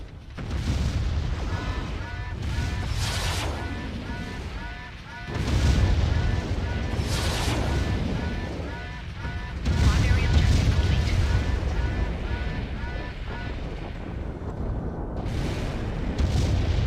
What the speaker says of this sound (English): They really did put a lot of attention into their explosion noises, didn't they?